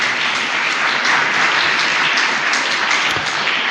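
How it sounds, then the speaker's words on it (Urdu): A church congregation at Holy Mass on the fourth Sunday of Advent in St. Joseph's Parish breaks into full, sustained applause, dense and even throughout, filling the hall without voices on top. "بھرپور تالیوں میں ساری کلیسیا کا شکریہ ادا کرتے ہیں۔"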